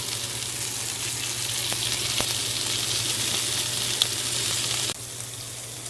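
Bacon-wrapped hot dogs fry in a pan with a loud, steady sizzle and crackle that stays close and continuous, then drops slightly near the end, with no talking.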